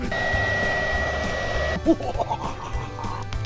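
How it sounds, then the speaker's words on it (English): Blower pushing air onto a campfire outdoors, a steady whooshing hum throughout with a faint tone, joined midway by brief clattering and light background noise. "They have to cheat with a blower."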